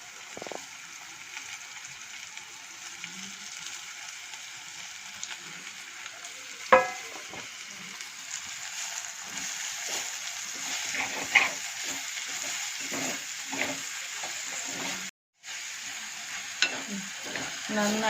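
Chopped chilli leaves for a dal curry are stirred and mixed in a hot pan with a steady, soft sizzle. Scattered scrapes and clinks of a spoon sound close by, with a short break in the sound near the end.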